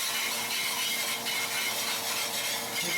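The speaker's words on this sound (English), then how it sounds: "Add it quickly and a whisk" Whisk scraping and swishing through cognac and peach-pear juice in a hot steak pan, a steady, bright rubbing sizzle, close and moderately quiet, with no talking.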